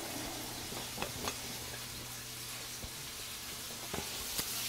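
Prawns and bacon sizzling in a frying pan, a steady close hiss with occasional soft pops and clicks of a utensil, no talking.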